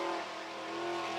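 A sprint car with a 410 cubic inch Gertie engine races through a time trial at speed, its engine a steady, sustained high-pitched roar heard alone.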